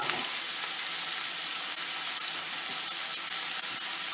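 Prawns frying in a pan for curried rice, giving a steady, close hiss and crackle of hot oil with small pops throughout, and no talking.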